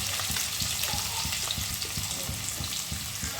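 Onions frying in hot oil in a pan, a steady close sizzle with soft rhythmic bubbling and crackle running throughout.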